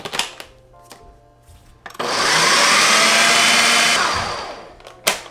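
An electric mixer whirs loudly for about two seconds as it mixes cinnamon roll dough, preceded and followed by clicks and knocks of handling, with no talking.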